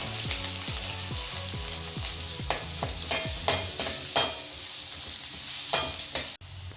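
Two ground onions sizzle and fry in hot oil alongside chopped green chillies, with a steady crackle under repeated scraping stirs of a spoon against the pan, some strokes sharp and loud, near and clear.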